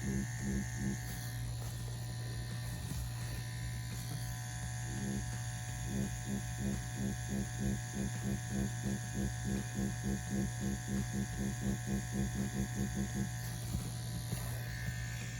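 An Ambition Ninja wireless tattoo machine does dot work with a steady electric buzz and hum, broken by rapid rhythmic ticking bursts as the needle dots, close and continuous throughout.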